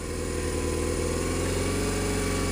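Motorcycle engine holding steady at about 2,500 RPM under a Go Cruise throttle control, a constant, unwavering drone with a fine regular pulse, close and continuous.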